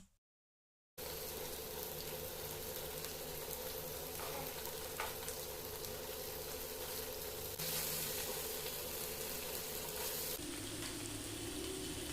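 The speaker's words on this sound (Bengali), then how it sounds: "তারপর সামান্য তেলে পনিরগুলো ভেজে নিতে হবে গোল্ডেন ব্রাউন কালার আসা অবধি।" Paneer pieces frying in a little oil in a pan, giving a steady, even sizzle that runs for about eleven seconds after a brief silent start, moderately close, with no speech.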